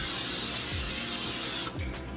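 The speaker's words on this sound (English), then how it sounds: "Spray your pan." Cooking spray hisses onto a pan set on a stovetop burner, a steady close hiss lasting under two seconds before it stops.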